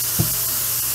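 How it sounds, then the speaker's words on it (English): A volcanic fizz toy tablet fizzes in poured water, giving a steady close hiss with one brief splashy burst near the start. "we're gonna go ahead and pour the water and see how fizzy we get"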